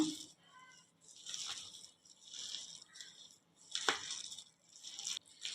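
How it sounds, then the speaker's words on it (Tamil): Idli batter with green chillies is mixed by hand, close up, giving soft wet squelches and sloshes in uneven bursts, with short crunchy slaps between quiet gaps. "இப்போ நான் தண்ணி எதுவுமே சேர்க்காம நான் வந்து மிக்ஸ் பண்ணிக்கிறேன்."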